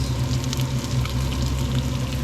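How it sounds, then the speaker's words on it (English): Steady, close sizzling of crayfish frying in a hot pan, with constant crackle and spatter and no talking. "Let that sizzle away for around 40 odd seconds"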